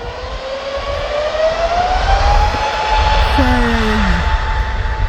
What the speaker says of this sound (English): It's taxiing down.